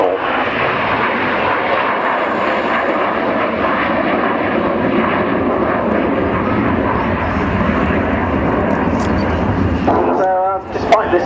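Avro Vulcan bomber flying past at an air display at Waddington, a loud continuous engine roar filling the scene, with a commentator talking over it.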